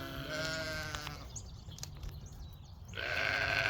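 Sheep on a farm bleating loudly and close, one long wavering bleat followed by a brief lull and another bleat starting at the end.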